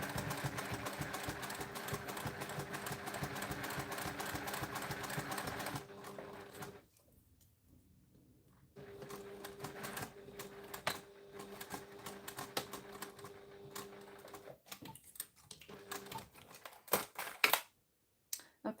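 A home sewing machine stitches through thick layers of a flex-frame sunglasses pouch, running in steady bursts that stop and restart, with a quiet pause in the middle and a few sharp clicks near the end.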